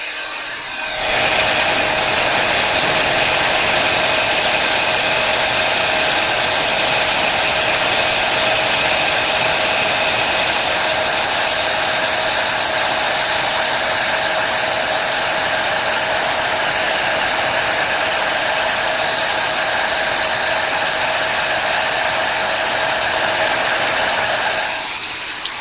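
A heat embossing tool blows continuously with a steady high-pitched whine and airy hiss, switching on near the start and running on, close and loud.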